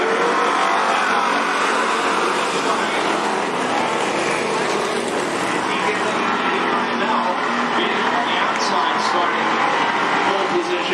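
Race cars roaring around the Cottage Grove Speedway track, a dense continuous engine drone with revving swells, while an announcer talks over it.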